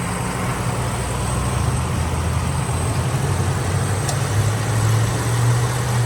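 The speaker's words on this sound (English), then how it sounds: "Just gonna hover here for 20 seconds so you can listen to the motor." A 1993 Cadillac Sedan DeVille engine idles steadily with a low, even rumble, heard up close and continuously, with no talk.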